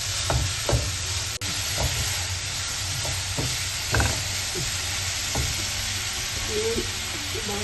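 Beetroot laddu mixture with sugar is stirred in a pan, giving a continuous soft sizzle with repeated scraping strokes of the spoon against the pan, close and fairly loud.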